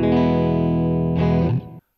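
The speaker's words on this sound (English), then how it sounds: "Again, we have a little bit of reverb." An electric guitar on the jazz clean setting of a Donner Cyclops modeling mini amp, with a little reverb, rings out a sustained chord that shifts once before the tail fades quickly; no one talks.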